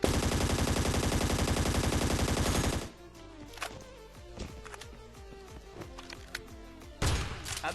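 Rapid automatic gunfire from the mobile shooter game ScarFall 2.0: a loud, sustained burst of shots, then scattered single shots and short bursts, with another loud burst near the end.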